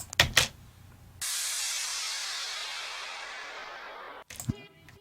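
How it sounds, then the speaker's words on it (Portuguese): An electronic-style drum transition in a song: a short drum hit, then a sustained wash of white noise that slowly fades over about three seconds, cut off by more drum hits. "eu trabalhei em umas transições mais de estilo eletrônico mesmo"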